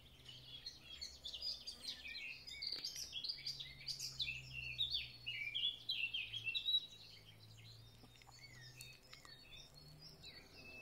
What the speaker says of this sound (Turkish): Birden çok kuş, birden çok ses.